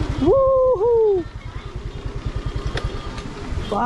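A scooter engine putters in a steady rapid rhythm close by on a ride near Chitwan, following a loud two-tone horn blast at the start.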